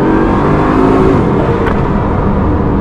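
Bugatti Chiron (1,500 hp) accelerating on a road to overtake, a loud continuous engine whoosh and rush heard from inside the car, steady throughout with no speech.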